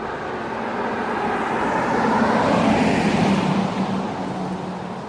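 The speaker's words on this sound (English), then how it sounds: "Car coming." A car passing along a street, its engine and tyre noise swelling from a distant rumble to a close, loud whoosh near the middle before fading away again.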